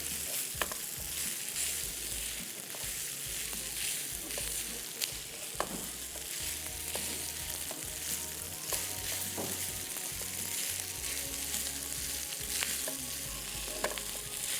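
Rice with salt and chicken powder stir-fried in oil for tandoori chow mein, a long continuous sizzle with repeated scraping and clattering of a spatula against the wok, close and steady.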